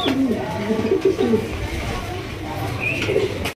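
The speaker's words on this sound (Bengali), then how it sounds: "মাত্র দর্শক 2300 টাকায় ব্ল্যাক কালারের বারহমা কবুতর 2 ডিম সহকারে ইনশাআল্লাহ সংগ্রহ করতে পারবেন" Black exhibition pigeons, a big-bodied high-quality pair, coo in low repeated rolling phrases throughout, close and steady, with someone talking over them.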